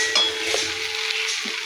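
Food stirred in a sizzling pan: a steady, close frying hiss with faint scraping of utensil against the pot, continuous for under two seconds with no voices.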